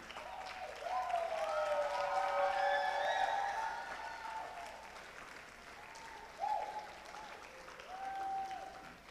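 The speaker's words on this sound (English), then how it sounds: "Keep clapping, keep clapping." Crowd at a church camp gathering in Lagos claps continuously at moderate distance, the applause partly covered by a loud voice calling out over it and by sustained cheering tones.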